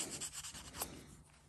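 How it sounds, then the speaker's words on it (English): Sandpaper rubbed gently by hand to round over the corner of a knife handle: soft, faint, repeated rasping strokes heard up close, with no talking. "So I just take a piece of sandpaper and just very gently just round over that corner"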